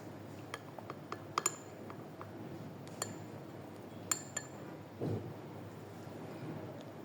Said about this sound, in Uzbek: Endi buni yaxshilab aralashtiramiz.